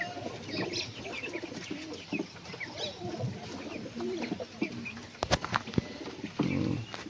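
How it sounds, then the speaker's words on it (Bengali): A young domestic pigeon coos softly nearby among other pigeons, low murmuring calls repeating over several seconds with a few brief clicks and a short flutter near the end. "দেশি পায়রার বাচ্চাটা এসেছে"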